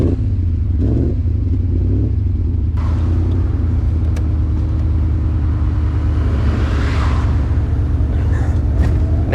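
A 1970 Maserati Ghibli Spyder engine runs steadily with a deep, throaty rumble, loud and close, the revs rising slightly now and then.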